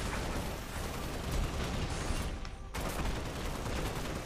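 Dense, continuous gunfire from the mobile battle royale game BGMI, also known as PUBG Mobile, roars nonstop and loud, briefly thinning for a moment before the burst picks up again.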